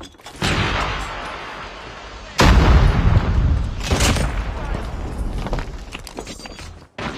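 A grenade blast in a mobile shooter game: a sudden heavy boom midway, preceded and followed by bursts of gunfire and battle noise, loud and close, with no talk.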